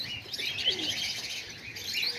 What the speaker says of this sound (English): there's all the pigeons.